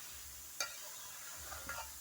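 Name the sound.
chicken curry meat cooking in a pan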